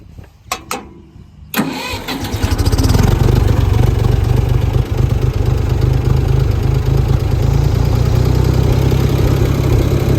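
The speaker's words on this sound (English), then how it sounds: "I'm gonna take y'all on a little tractor ride with me." An old farm tractor engine cranks over with a few clicks, catches and settles into a steady, loud, close chugging idle with low rumbling pulses, heard alone with no talk.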